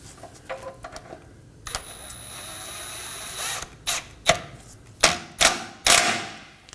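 A 10mm bolt being snugged down on the control arm bracket of a 2020s Toyota Corolla, a series of sharp ratchet clicks and metallic taps growing louder and spaced about half a second apart.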